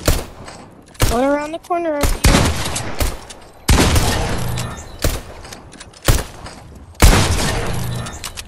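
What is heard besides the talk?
gunfire in a video game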